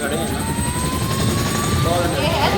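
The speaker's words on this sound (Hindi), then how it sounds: "आपको इसके अंदर बहुत ज़्यादा नॉइज़ आता है और बहुत ज़्यादा डाउन वॉश रहता है ये हेलीकॉप्टर का" A CH-47 Chinook heavy-lift helicopter drones steadily from close range, its dense low rotor and engine roar filling everything, with a thin turbine whine riding on top.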